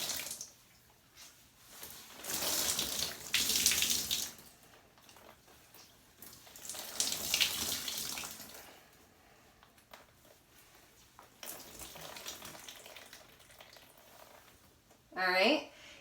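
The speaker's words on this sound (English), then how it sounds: "I put my wrist through and wring it with my hand" Wet laundry is wrung out by hand in a few bursts of squishing, dripping water, close and fairly soft, with quieter gaps between twists and a brief sharper sound at the end.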